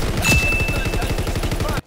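Gunfire from a Call of Duty WW2 match, a rapid run of close, punchy shots pulsing steadily for under two seconds before cutting off abruptly.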